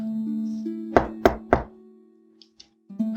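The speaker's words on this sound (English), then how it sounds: "The knocking at the door became louder." Three firm, evenly spaced knocks on a door in the game Elisa: The Innkeeper, sharp and close over a sustained low musical drone, followed by a couple of faint taps.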